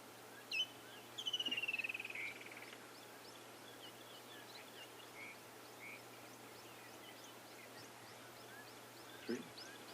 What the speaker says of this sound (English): I can hear 7 different bird species.